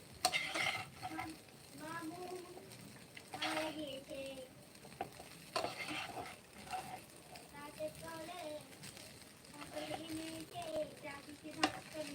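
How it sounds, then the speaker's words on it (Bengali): Noodles stirred and frying in a pan for a Chinese-style vegetable noodle dish, giving a soft, steady sizzle with scraping stirs throughout, under ongoing talk. "নুডলসটা হতে থাকুক নেড়ে নিচ্ছি"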